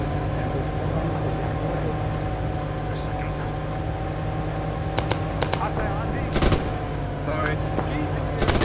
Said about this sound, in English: Oh, those are the mortars.